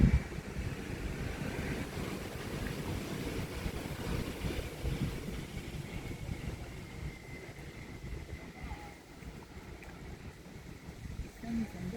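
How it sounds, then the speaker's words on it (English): Wind blows outdoors beside water while an RC sailboat is sailed, a steady broadband rumble and buffeting on the microphone that runs through the whole stretch at a fairly even level. "wind's coming from my left right now"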